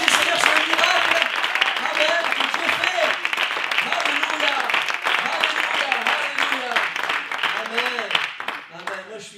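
A church congregation applauds and cheers together in steady, dense clapping that fills the room at close range, with voices mixed in, before fading near the end.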